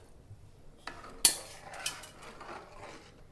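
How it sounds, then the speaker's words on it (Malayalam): Mango being stirred into a fish curry in a pot, a few scraping clinks of a spoon against the metal, one sharp clatter standing out, fairly close and without talk. "നന്നായിട്ട് ഇളക്കി കൊടുക്കാം ഇതിലേക്ക് മാങ്ങ ഇട്ട് കൊടുക്കാം"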